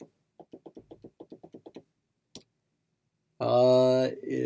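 A calculator's keys are pressed in a quick run of about a dozen soft, close clicks, then a single tap, followed by a burst of talking.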